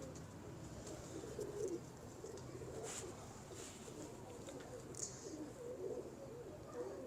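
Soft cooing of pigeons kept by a pigeon fancier repeats through the clip over a steady outdoor background hum, with no voices.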